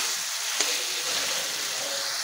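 Mutton and papaya sizzle steadily in a hot pan as ground spices are stirred in, with a continuous frying hiss and one light clack of utensil against the pan partway through.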